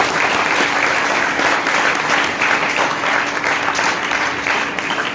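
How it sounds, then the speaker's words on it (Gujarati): Sustained audience applause fills a school farewell ceremony hall, steady and loud from start to finish, with no pauses or voices breaking through. "એના માટે જોરદાર તાળીઓ."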